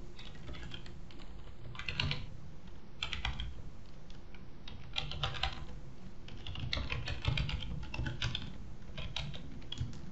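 Fingers type text on a computer keyboard in a steady, close clatter of quick keystrokes with uneven bursts and brief pauses, and no voices.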